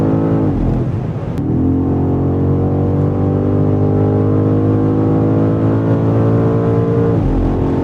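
A 2025 BMW M5 Touring accelerates hard on the autobahn, its engine droning loudly as the pitch climbs steadily through a long gear, with brief dips at the shifts near the start and end, heard from inside the cabin without speech.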